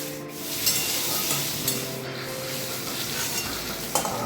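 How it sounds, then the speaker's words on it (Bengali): Paneer fries in oil with salt and turmeric, a steady hiss of sizzling with a few scrapes of stirring, close and unbroken. "পনিরটা আমি নুন হলুদ দিয়ে ভেজে নিচ্ছিলাম"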